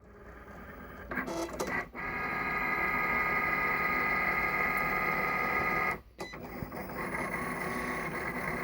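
A Cricut cutting machine cuts 1mm gasket material for a GY6 scooter on three passes. It gives a steady whirring motor drone with clicks and a short pause between passes, close and continuous.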